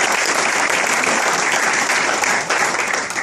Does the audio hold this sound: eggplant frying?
no